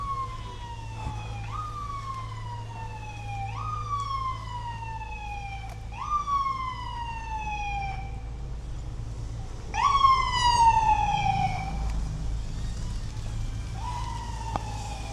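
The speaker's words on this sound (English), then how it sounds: "here's our ambulance today." An ambulance siren wails in repeated rising-and-falling sweeps as it passes along a Los Feliz street in Los Angeles, swelling louder and brighter mid-pass over steady low traffic rumble.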